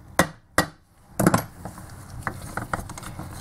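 A screwdriver is tapped into a Phillips screw on a Mitsubishi alternator during a brush change, giving three sharp metallic knocks followed by softer small clicks and handling noises, close up with no speech.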